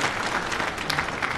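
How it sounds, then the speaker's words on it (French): An audience at an official congress launch ceremony claps in a brief burst of steady, dense applause, close and moderately loud throughout. "Applaudissements"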